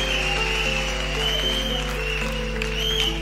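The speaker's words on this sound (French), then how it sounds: "Acclame pour sa délivrance et sa restauration." A church congregation at a night service in Yaoundé claps together, a steady and fairly loud sustained applause over a constant low hum.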